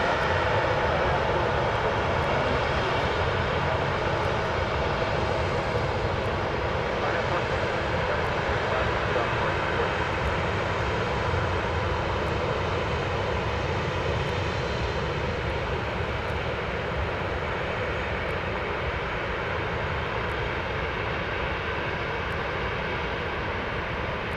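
A plane's engine at Dallas Love Field drones steadily and loudly throughout, a broad continuous roar with no clear rise or fade, close by, with no talk over it.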